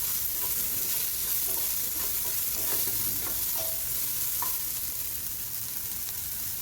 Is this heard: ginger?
yes